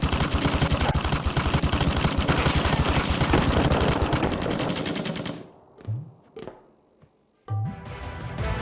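Rapid automatic gunfire rattles loud and dense for several seconds, then breaks into a few scattered isolated shots and thuds with gaps of near silence between them.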